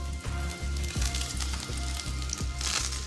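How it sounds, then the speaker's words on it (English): Fish fingers, fully coated in crumbs, sizzle steadily as they pan fry, a continuous close crackle with small pops and no voices. "Once the fish fingers are thoroughly coated, they're ready to pan fry."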